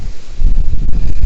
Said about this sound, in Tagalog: sobrang lakas ng hangin. Parang matutumba na yung puno